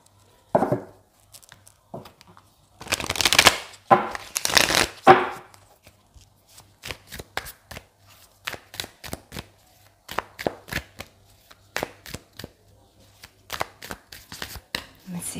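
Tarot cards are shuffled and riffled by hand during a reading: a couple of long loud riffles early on, then a steady run of sharp individual card snaps and slaps, close up, with a voice talking at points.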